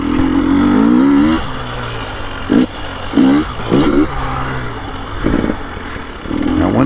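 KTM 300 Erzberg two-stroke oil-injected dirt bike engine running close by, a steady buzzing drone broken by several short throttle blips and revs over about seven seconds.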